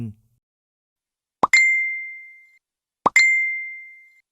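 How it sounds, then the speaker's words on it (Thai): A phone chat notification chimes twice in a quiet room, each a crisp plop followed by a bright ringing ding that decays over about a second, spaced roughly a second and a half apart, with no talk. "จนกระทั่งเสียงแชทในโทรศัพท์ของผมดังขึ้น"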